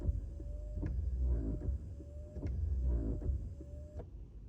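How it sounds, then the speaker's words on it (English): Repeated short whirring motor sounds with clicks inside a quiet Renault Captur, several rear windscreen washer-and-wiper cycles one after another. "just push the lever away from you and it will wash and wipe automatically"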